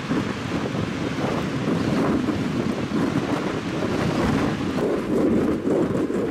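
Cold wind buffets the microphone as huge waves crash onto the Lake Michigan shore, a loud, continuous roar of surf and gusts with surges and no voices.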